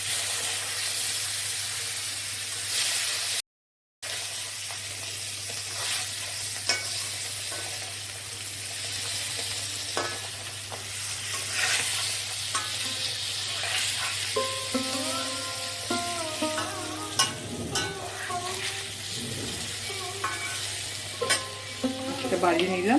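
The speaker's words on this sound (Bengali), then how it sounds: "পাবদাটাকে ছেড়ে দিচ্ছি" Pabda fish frying in a pan, with a continuous close sizzle and occasional stirring and scraping sounds, growing busier with crackles toward the end; no one speaks.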